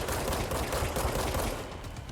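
Rapid, continuous gunfire from the video game Control, a dense fusillade of shots filling the whole moment at steady loudness with no voices over it.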